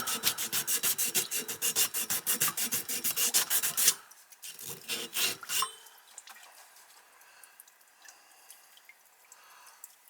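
Sandpaper scrubs a 1 inch copper pipe from a lawn sprinkler system with fast, rhythmic, close rasping strokes. The strokes slow into a few scattered rubs and then fade to quiet scraping.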